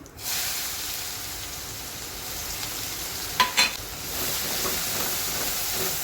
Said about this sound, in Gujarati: જીરું તતરે એટલે હિંગ અને અંદર ઝીણી સમારેલી 2 ડુંગળી.